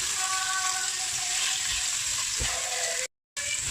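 Pork belly sautéing with ginger and garlic in a pan, a steady loud sizzle with frying crackle and occasional stirring scrapes, close up with no talk.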